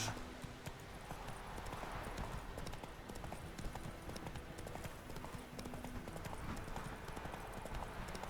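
Hooves of Roach, a horse in The Witcher 3, clip-clopping in a steady rhythmic gait across the whole stretch, moderately close and fairly quiet, no talk.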